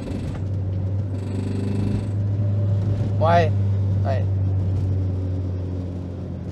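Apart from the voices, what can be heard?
Renault Twingo engine running with a high-mileage fault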